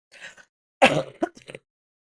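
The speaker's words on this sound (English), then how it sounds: "And I've got a cough." A few short throat-clearing bursts and a harsh cough-like rasp, close and fairly quiet, with brief pauses between them and no talking.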